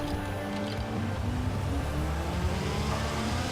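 A Lego Ferrari F40 in Forza Horizon 4 accelerates hard, its engine a loud, steady, dense roar that holds at full volume throughout with no voices.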